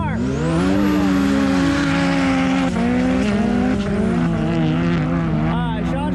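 A boosted Pro R drag car roars off the line at the Glamis sand drags, its engine screaming loud and sustained as it pulls away, with an excited announcer talking over it.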